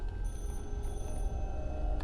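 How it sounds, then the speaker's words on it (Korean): A telephone rings steadily in a horror video game, its tonal bell repeating continuously at moderate loudness over a low rumbling ambience, with no speech. "전화기 소리가 가까워지는 대로 가보긴 가야죠"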